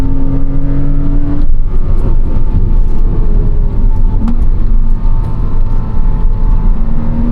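Loud flat-six engine drone from inside a Porsche Cayman, holding high revs toward a redline past 7,000 RPM, with a gear change early on and steady rumble after.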